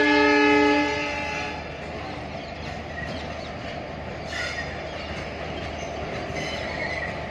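A train approaches, opening with a sustained horn blast and then settling into a steady rumble of rolling wheels and carriages.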